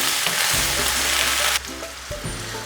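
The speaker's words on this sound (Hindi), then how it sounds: "अब हम इसमें एक मीडियम साइज़ का आलू डालेंगे। इसको मैंने ऐसे छोटे छोटे क्यूब्स में काट लिया है, वो डालेंगे। इसको मिक्स करेंगे।" Small cubes of potato hitting hot oil with chili and ginger, a loud steady sizzle with a few soft stirring scrapes, close up and with no voices.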